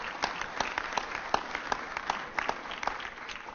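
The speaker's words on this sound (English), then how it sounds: "Please give Commissioner Ayers another round of applause." Sparse applause from a press conference audience honoring a city commissioner, with individual claps spiking in an uneven, thinning patter, moderately distant and fairly quiet, no voices.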